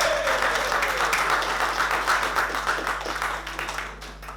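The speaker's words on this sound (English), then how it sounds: "Give a big round of applause." A theatre audience bursts into dense, steady applause that swells and then tapers off over a few seconds, the clapping heard close and loud without any speech.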